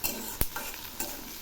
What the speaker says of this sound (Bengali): এবার আমি দিচ্ছি 1 চামচ কালো জিরে। এগুলো খুব ভালো করে ভেজে নেব